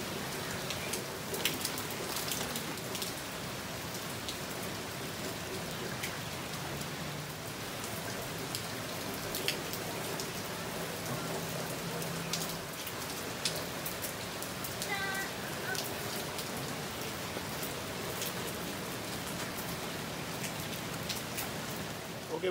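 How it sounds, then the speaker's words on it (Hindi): Steady rain pouring outdoors in Karachi at dusk under heavy cloud, a continuous even hiss of drops striking surfaces with scattered louder splashes, moderately loud and unbroken throughout. "अंधेरा हो रहा है क्योंकि बारिश हो रही है और बादल छाए हुए हैं"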